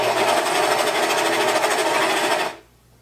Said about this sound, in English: We'll stick it under my presser foot here, and then we'll sew down a little bit and line it up